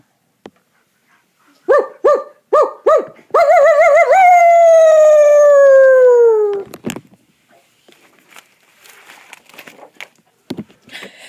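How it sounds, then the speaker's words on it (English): A dog barks several times in quick succession, then breaks into a long, wavering howl that fades, followed by quieter scattered sounds. "He barked and barked and barked."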